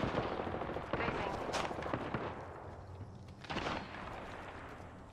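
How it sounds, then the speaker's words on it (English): Rapid automatic gunfire in the Apex Legends video game, bursts of shots layered over continuous game noise, loud and close. "They spotted me. I'm taking shots. Taking fire."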